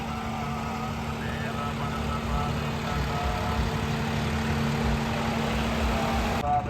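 A tractor engine runs steadily with a low, continuous rumble in a potato field while people talk over it.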